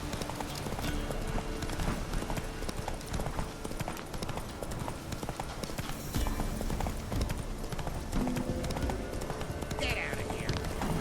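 Roach, Geralt's horse in The Witcher 3, clip-clops along in a steady rhythmic gait, hoofbeats close and continuous beneath game ambience, with a voice speaking over it.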